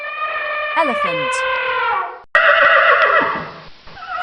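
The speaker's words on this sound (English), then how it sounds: "Horse." A horse lets out a loud, drawn-out whinny with a quavering, falling pitch, followed by a second shorter neigh, heard close and alone.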